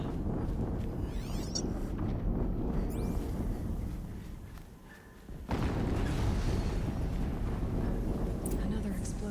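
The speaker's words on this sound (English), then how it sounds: "Another explosion." A rumbling explosion in Horizon Zero Dawn, a dense, loud roar that fills the scene, dips for a moment, then surges back with a heavy boom and sustained rumble.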